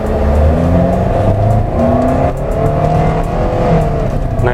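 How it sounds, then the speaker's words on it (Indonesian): A Toyota Avanza pulls away from a standstill, its engine loud and close, rising in pitch through the revs with a brief dip at a shift, then climbing again, no voices over it. "Kita akan coba berakselerasi. Kita dari titik diam dulu."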